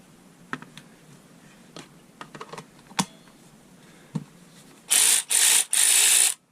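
A Prostormer cordless electric ratchet wrench fires in three short, loud, high-pitched whirring bursts near the end, after a run of scattered light clicks and taps.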